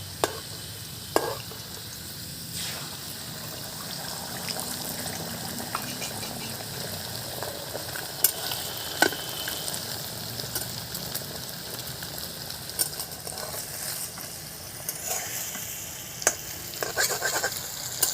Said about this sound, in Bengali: আলুটা একটু সাইড করে রেখে আমি ডিমটা দিয়ে দেবো।